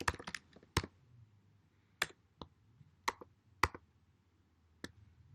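Keystrokes on a computer keyboard while entering a programming command, a handful of sharp isolated clicks and short bursts spread unevenly over a few seconds, close and clear against a quiet room.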